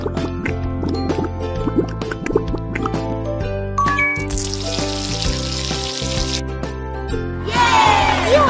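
Running water and splashing as hands are washed in a baby unicorn care video game, a liquid trickle over steady cheerful game music, loud and close.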